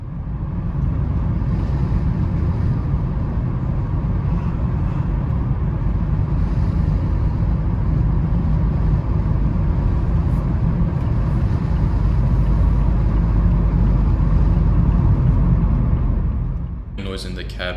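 A 2021 Mazda MX-5 RF Grand Touring carries a steady, loud low rumble of road and engine noise through the cabin while driving, continuous until it eases off near the end.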